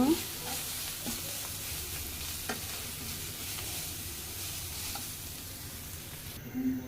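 Jute leaf greens stir-frying in a pan, a steady broadband sizzle with a few soft scraping stirs, close and moderately loud, no talking.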